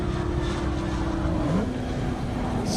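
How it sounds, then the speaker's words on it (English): Nissan GT-R drag car rolling down toward the grid at an airport drag racing event, a steady low engine drone under broad background noise, with a brief pitch sweep midway. "Beautiful GTR making its way down."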